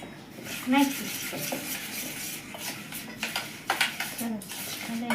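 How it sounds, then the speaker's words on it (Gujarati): A spoon scrapes and clinks against a metal pan while chili powder is stirred into gunda pickle, close irregular scraping with a few sharp knocks. "મરચું નાખીને સરસ એવું આમ હલાવી નાખશું."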